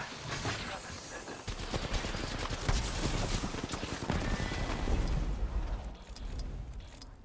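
Dense, continuous automatic gunfire from the Apex Legends video game, with rapid overlapping shots and heavy booms sustained for about seven seconds, loud and close, with a brief shout near the start.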